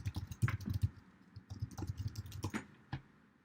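Quick, close, soft clicking keystrokes on a computer keyboard come in short irregular bursts, ending with a slightly heavier single key press, in a quiet room.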